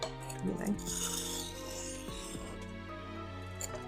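An ESEE 4 knife blade is drawn across a Spyderco medium sharpening stone, giving soft, steady scraping and rasping strokes at close range over a low background hum.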